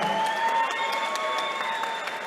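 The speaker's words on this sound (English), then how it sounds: "a round of applause for both warriors, please, in this matchup." Crowd at a women's boxing match applauding both fighters before the scorecards are read, a steady ring of clapping over a faint sustained tone, constant in level throughout.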